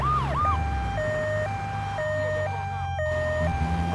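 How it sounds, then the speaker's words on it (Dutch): An ambulance siren in the video game GTA 3 wails close and loud, stepping back and forth between two tones at an even pace over low traffic rumble. "Daar komt de ambulance weer aangeschuurd."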